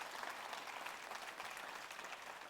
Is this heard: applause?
yes